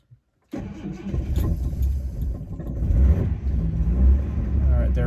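A daily-driver car engine starts after a short quiet pause, catching at once and settling into a steady, close rumbling run that swells slightly as it continues.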